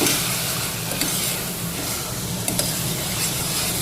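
Spice masala of chili powder, turmeric and coriander-cumin fries in a pan for dal while being stirred, a continuous close sizzle with occasional scraping knocks of the spoon.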